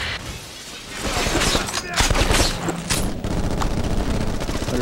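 Dense gunfire from the PS2 shooter Black, a sustained clattering fusillade of shots and impacts with sharp crashes and booms layered on top, loud and close for the whole stretch.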